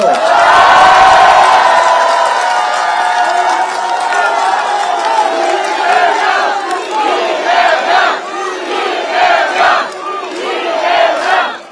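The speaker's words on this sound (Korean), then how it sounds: "박수 좀 크게 써주세요." A big outdoor campaign rally crowd in Pohang roars, cheers and shouts loudly, a sustained surge of many voices with whoops and clapping that rises and falls in waves.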